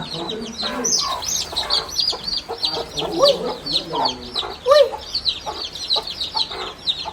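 Chickens cluck and chirp repeatedly through a busy village farmyard din, with a few louder calls standing out among steady higher bird chatter.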